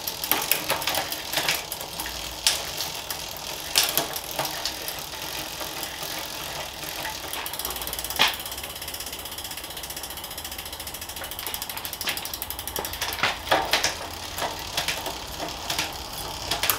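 A Cube bicycle's rear drivetrain ticks and whirs continuously as the cranks turn, with intermittent clicks and clunks as the derailleur shifts across the gears on a worn chain, close by and without talk.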